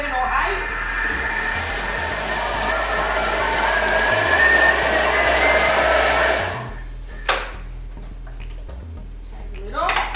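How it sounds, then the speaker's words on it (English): A Thermomix blending green soup at speed 7 to 8 whirs loudly and steadily for about six seconds, then stops abruptly, leaving clatter and faint knocks afterward. "we'll blitz up the Thermomix, we'll pop the lid on"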